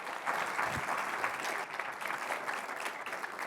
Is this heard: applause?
yes